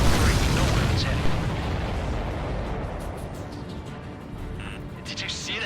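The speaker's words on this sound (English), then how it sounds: "Did you see that explosion?" A supply ship blows up in the combat flight game Ace Combat 7, a loud booming explosion that starts heavy and rumbling and then slowly fades. Game radio chatter and effects carry on underneath.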